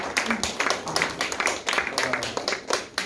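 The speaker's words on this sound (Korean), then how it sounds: "올해 환영의 박수 한번 부탁드릴까요?" A church youth-service congregation gives welcoming applause, a steady crowd of hand claps filling the room throughout, with voices mixed in.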